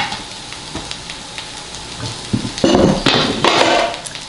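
Vegetables for a chicken stir fry hit a hot skillet and sizzle, a soft hiss that swells into louder crackling bursts as they are tossed about, with no talking.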